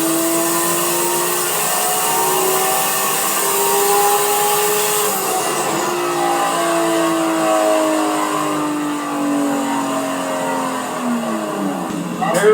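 A Nissan R34 Skyline turbo drag car makes a full pull, its engine note rising steadily through the gears with loud, sustained revving that shifts pitch, heard from a short distance.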